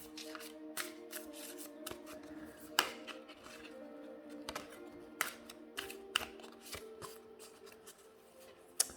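Oracle cards are shuffled by hand for a card reading, with crisp riffling and sharp slaps of the cards repeating irregularly at close range over a faint tonal background.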